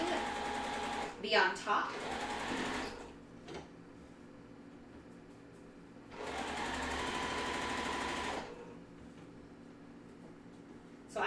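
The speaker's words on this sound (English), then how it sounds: "So now we have rows 1 and 2 sewn together." A sewing machine stitches quilt rows together for a Wave Pool block-of-the-month quilt, running in two steady bursts of a couple of seconds each, with a person talking between and around them.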